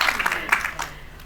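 An audience at a conversation event claps in a short, scattered burst of applause that fades after about a second, moderately near.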